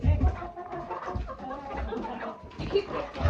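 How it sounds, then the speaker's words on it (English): Backyard chickens cluck and murmur close by in short irregular bursts, with scattered low thumps and shuffling around them. "Chickens."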